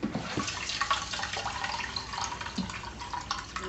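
Water splashes and trickles steadily into a bowl close by, with small drips and sloshes, no talking.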